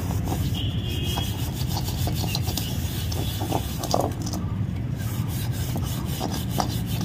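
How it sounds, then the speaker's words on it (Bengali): Scotch-Brite pad scrubbing a burnt wok (kadai), a close, continuous gritty rubbing with short repeated strokes and no talk. "এবার আমি একটু লাস্টে স্কচ ব্রাইটটা দিয়ে অল্প একটু ঘষে নেব।"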